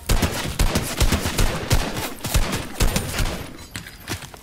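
Rapid bursts of gunfire during a Fortnite Battle Royale sniper fight, dense repeated shots crackling close and loud throughout with no talking.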